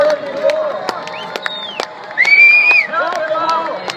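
Crowd at the 2016 Toledo air show cheers and whoops for a man pulling an F-16 jet, with a loud shrill whistle and scattered shouts over steady background noise.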